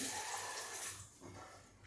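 Water is poured into sorghum flour for kneading dough, running and splashing for a couple of seconds, close and moderately loud, tapering off near the end.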